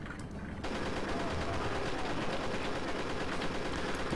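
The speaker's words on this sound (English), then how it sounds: "let's use the chain gun for that" A chain gun fires in rapid continuous bursts in the Pirate Doom video game, loud and dense for most of the clip after a brief quieter start, with no talk.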